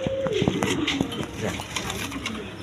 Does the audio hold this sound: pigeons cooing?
yes